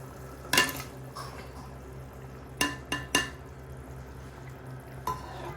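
A few sharp metal scrapes and clinks of a spoon stirring chicken in a cooking pot, spaced irregularly over a low background hum.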